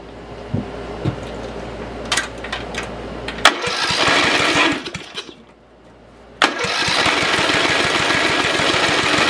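A Murray riding lawn mower engine cranks with a few short clicks and sputters, catches and runs loudly, cuts out briefly, then restarts and settles into a steady close rumble.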